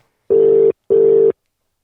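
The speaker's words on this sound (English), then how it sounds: "Ringing the line or?" Telephone call ringing out on a podcast line: two even, steady electronic tone bursts of about half a second each, separated by a short gap, loud and clear with no talk over them.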